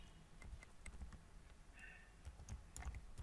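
Computer keyboard typing, irregular soft clicks of keys struck one after another at close range, steady and fairly quiet with no voices.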